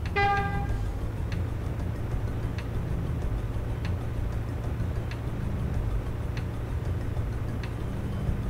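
A car horn sounds in the Shenmue video game, one short tonal toot at the start, followed by a steady ticking pulse about once a second over a low engine-like drone, with no voices.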